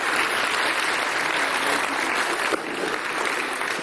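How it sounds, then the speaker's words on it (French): Loud, dense applause from the crowd at the first Cameroonian Ballon d'Or football awards ceremony, sustained without a break for several seconds. "Applaudissements s'il vous plaît."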